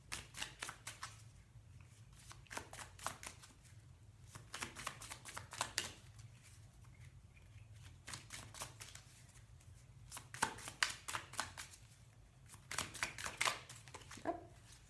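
Tarot cards riffle and flutter in repeated quick shuffling bursts, soft and close, with brief pauses between runs over a faint steady hum.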